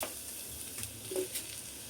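Chopped onions sizzling in hot mustard oil in a pan, ahead of cooking hilsa fish; a steady, close frying hiss runs throughout with faint stirring, and no voices.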